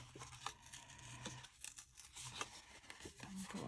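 Paper tearing slowly along a card edge while making a greeting card with a torn-edge finish: soft, intermittent ripping and crinkling, close and quiet.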